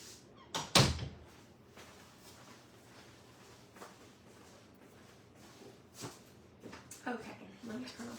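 A room door is opened and closed to reach a light switch outside it, giving one sharp, loud thunk near the start, followed by quieter shuffles and small knocks nearby.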